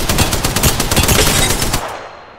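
Rapid automatic gunfire from a firefight in Apex Legends, a loud, dense string of close shots that rattles for about two seconds, then cuts off into a quick fading tail.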